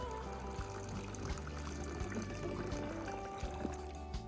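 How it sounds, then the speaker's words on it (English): Room-temperature clean water, about 500 millilitres, pours steadily into a container, a continuous splashing trickle at close range. "We're going to start by filling our container with clean water."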